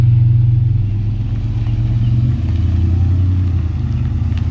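A Harley-Davidson V-Rod motorcycle idles nearby, a loud, steady low rumble with a slight dip in pitch midway and faint clatter over it.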